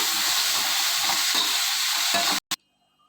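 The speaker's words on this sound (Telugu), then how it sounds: "ఇప్పుడు ఈ మసాలా మొత్తం దీంట్లో యాడ్ చేసుకుందామండి జీడిపప్పు మసాలా ఇవన్నీ అయితే వేసేసామండి ఒక్కసారి కలుపుకున్నాము" Masala with dry coconut and cashews sizzles and is stirred in a pan for a dhaba-style capsicum curry, a close, loud steady frying hiss that cuts off abruptly near the end.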